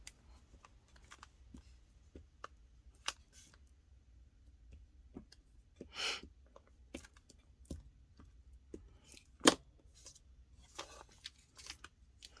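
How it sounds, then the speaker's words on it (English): Scissors trim a paper hummingbird cutout for a collage card, giving sparse, quiet snips and small paper rustles spaced irregularly against a near-silent background. "The hummingbird's going to be a little big, so we'll probably trim the hummingbird off."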